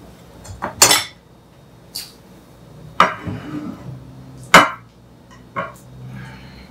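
Cake batter for a 1960s apple cake being scraped into a 9x12 baking pan, with several sharp metal clinks and scrapes of utensil against pan, spaced irregularly and close, no talk.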